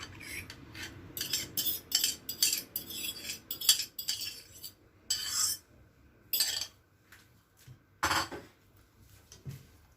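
Cassava cake batter mixed in a bowl with a metal utensil, rapid irregular clinks and scrapes in bursts with short pauses, close and clear with no talk.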